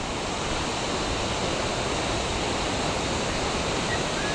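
A mountain waterfall on a Himalayan trek roars as a steady, broadband rushing hiss, constant and fairly loud with no pauses or voices.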